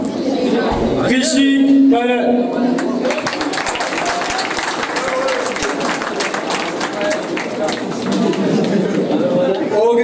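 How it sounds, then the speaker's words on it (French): Applause from a crowd at a Mauritian political gathering where a party leader presents his youth team, clapping rising near the start and continuing as a dense, steady patter under a voice on a microphone and crowd chatter. "Un grand applaudissement, nos camarades."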